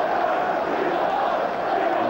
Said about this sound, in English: immediately the calls go up for Letizier's international recognition from this faithful Southampton crowd